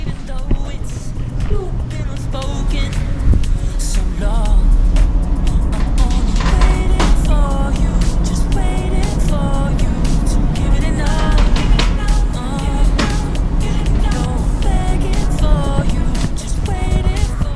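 Dense road traffic on EDSA in Pasay, watched from a hotel room, makes a steady wash of engines and tires with scattered horn toots and occasional louder passes, and a voice talks over it.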